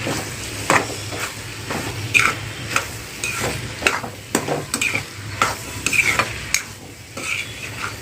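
Ghevda bean vegetable and coriander are mixed in a pan, rhythmic spatula scrapes and knocks against the metal repeating over a faint sizzle, close and fairly loud with no speech.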